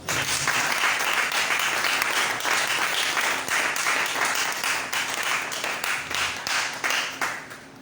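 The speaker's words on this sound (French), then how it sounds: "Si tu m'as compris, acclame le Seigneur." A church congregation at a French-language sermon applauds loudly and steadily, a dense wash of clapping that carries on without pause and fades slightly toward the end.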